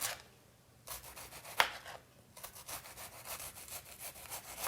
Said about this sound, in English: We're going to thinly slice this red onion